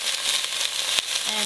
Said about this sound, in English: I'm just gonna sear about like 1 minute on the each side